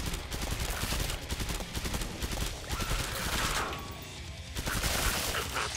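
Rapid gunfire from the video game Killing Floor 2, dense bursts of shots and fusillades firing continuously with crashes, loud and close.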